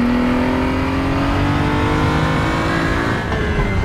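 Race car engine in the Raceroom racing game revving steadily at high pitch, its tone climbing gradually, loud and continuous with no talk over it.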